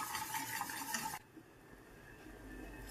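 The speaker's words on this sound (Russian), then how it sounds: "Нужно постоянно быть рядом и помешивать его." Custard cream being stirred in a pot on the stove, a soft scraping swish for about a second, then quieter faint bubbling and low kitchen hum, with no one talking.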